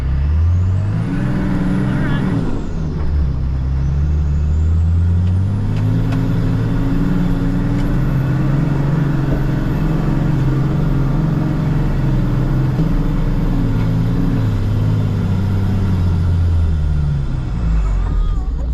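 A four-wheel drive vehicle climbs a sand dune in Western Australia, its engine droning loud and close with rising and falling revs and a drop around a gear change partway through, while people talk over it.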